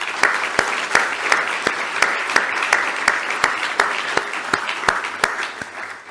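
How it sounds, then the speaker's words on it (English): Conference audience at the IFRS event applauds steadily, with a continuous wash of many hands and a few sharp, regularly spaced louder claps standing out throughout. "I'd like a round of applause for all of you for your support in this journey."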